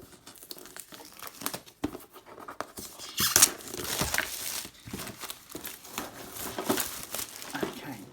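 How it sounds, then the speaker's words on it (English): Cellophane wrapping peeled off a Mantic Dungeon Depths terrain crate box, a long run of close, crinkling and tearing plastic with scratchy bursts, fairly quiet and continuous. "let's get the cellophane off"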